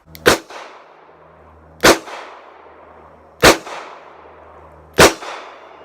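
A Charter Arms Bulldog .44 Special revolver fires four loud, sharp shots at an even pace, each about one and a half seconds apart, with a short ringing echo after every bang and no talking.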